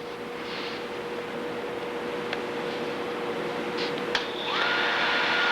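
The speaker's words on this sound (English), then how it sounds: "Now turn the motor on." Cuttermaster tool grinder motor with air bearing and taper attachment running steadily, a constant hum with a fixed tone, joined near the end by a rising higher-pitched grinding whine, no talking.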